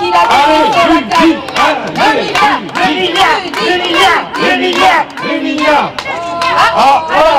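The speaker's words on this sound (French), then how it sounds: "on va demander bien évidemment au public d'acclamer, applaudir notre cher Rudy" A crowd at an outdoor Paris event in front of France TV cheers loudly in rhythmic, chant-like bursts of many voices, close and continuous, with talk mixed in.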